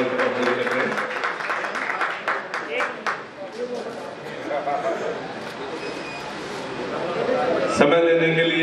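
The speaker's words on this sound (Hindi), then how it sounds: "एक बार तालियां विधायक जी को भी लगना चाहिए, पूरा मान सम्मान बहुत जोर से अग्रवाल।" Audience applause at a ceremony in a community hall honoring a local legislator, steady clapping from a crowd mixed with loud talk over a public address system throughout.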